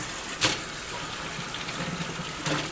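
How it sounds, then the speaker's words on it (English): Cold tap water runs steadily from a faucet as soaked hot peppers are rinsed for pickling, a continuous close splashing hiss with two brief louder gushes. "I'm just going to turn on some cold water, and I'm going to rinse them."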